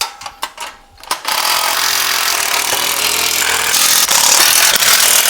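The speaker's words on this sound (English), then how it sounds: "And then you got your 9/16 wrench and socket, and go ahead and tighten everything up." Bolts on a Malone MegaSport LowBed kayak trailer being tightened with a 9/16 socket, starting with a few short ratcheting bursts, then a loud continuous power-driver whir close to the microphone.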